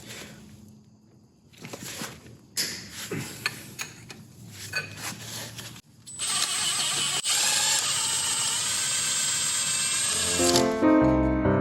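A power tool works on the starter bolt of a Deutz tractor during a clutch replacement, first in short buzzing bursts, then in a longer continuous high whine, close and fairly loud.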